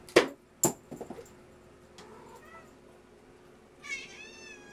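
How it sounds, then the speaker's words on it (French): A mother cat climbs about, knocking things with a few sharp clattering thumps and scrapes, then gives a clear, close, rising meow near the end. No one speaks. "Excusez le bruit, là. C'est la mère Franny qui vient de grimper"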